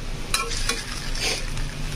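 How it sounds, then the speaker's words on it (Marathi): A spoon scrapes and stirs khichdi in a pan on a low gas flame just after salt goes in, with a soft sizzle underneath and a few quick metallic scrapes close by. "मीठ टाकल्यावरती थोडंसंच हलवायचं आहे आपल्याला"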